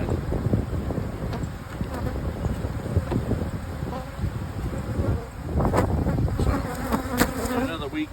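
Dense, continuous buzzing of a honeybee colony at an opened hive, many bees droning close to the microphone with occasional louder passes of individual insects and light wind noise.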